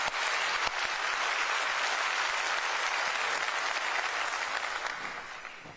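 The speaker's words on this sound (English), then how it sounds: "Now that deserves a round of applause." A large audience at a county address applauds county employees, a dense, sustained wash of clapping that holds steady for several seconds before tapering off at the end.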